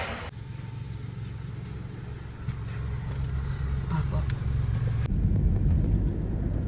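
A car engine gives a steady low rumble as people get into the car, the drone growing a little louder midway and shifting in tone after a dull thump.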